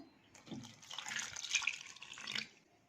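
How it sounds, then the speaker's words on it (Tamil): Water is poured into ragi millet flour and stirred to a lump-free batter for ragi kali, a soft, splashy swish that builds, peaks briefly and fades, quiet and close with no talking. "அதுக்கு நம்ம 1 கப் அளவுக்கு தண்ணி ஊற்றி இந்த மாவு நல்லா லம்ஸ் இல்லாமல் கரைச்சி எடுத்துக்கலாம்"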